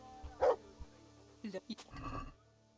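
A dog in the medieval video game Kingdom Come: Deliverance gives a few short, sharp barks and yips in separate bursts, with quiet stretches between them.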